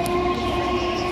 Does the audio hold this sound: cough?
no